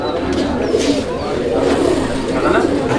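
Toila Hori pigeons coo in a low, continuous murmur from a pair of fancy pigeons for sale, steady and fairly loud throughout with a faint voice in the background.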